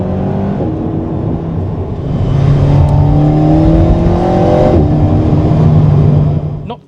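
Alpine A110R sports car engine revving steadily, loud and close, with droning harmonics that rise and settle through the run before cutting off at the end.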